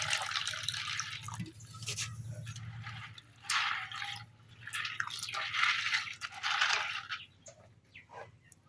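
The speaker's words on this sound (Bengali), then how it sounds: "তো এই জায়গায় আমি পরিমাণ মতো পানি দিয়ে দিছি।" Water poured onto soaking seeds in a bowl, heard as faint splashing and trickling bursts that come and go, close and quiet, with no speech.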